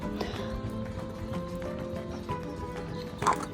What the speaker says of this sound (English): the stunning dancing Andalusian horses